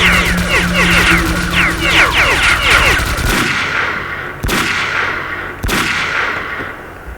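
Rapid close gunfire rattles in sustained automatic bursts in the video game S.T.A.L.K.E.R.: Clear Sky as a machine gunner is taken down, then the shooting stops and two sharp single shots ring out over a fading ambient background.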